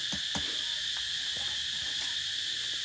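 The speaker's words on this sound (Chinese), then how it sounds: "对，好多知了叫。" Many cicadas drone in a steady, shrill chorus near a rural Laotian farm plot, loud and continuous throughout, with a few faint clicks over the top.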